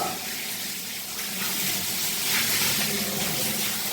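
Water runs steadily while a house is washed down, a continuous close rush of flowing water with a slight swell midway and no voices.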